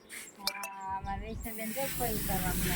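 Air hisses steadily as a tyre is inflated, rising into a continuous broadband rush in the second half, with a voice talking over the start.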